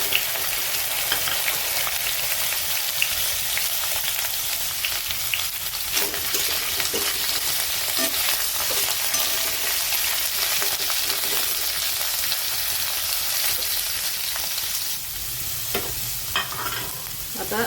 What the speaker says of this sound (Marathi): आता हे कापलेले दोडके याला तेलामध्ये आपण थोडंसं परतून घेऊ।